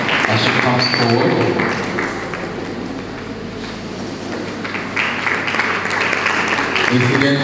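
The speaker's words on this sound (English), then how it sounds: "A warm round of applause for her as she comes forward." Audience at a bursary week public lecture applauding a speaker as she comes forward, sustained crowd clapping with voices talking over it throughout.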